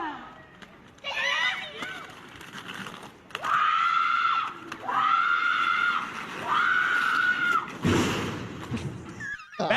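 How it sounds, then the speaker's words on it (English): Women on rollerblades crash into a steel garage door: drawn-out shrieking cries rise and fall in several bursts, then a loud clattering metal bang near the end, with voices around it. "That is the sound of woman on door."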